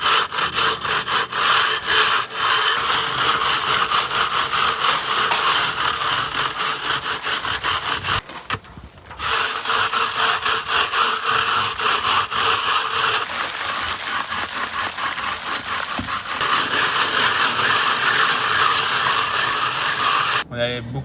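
Steady abrasive scraping of freshly applied render on an old house's facade, a loud continuous rasping stroke after stroke with only a brief pause partway through.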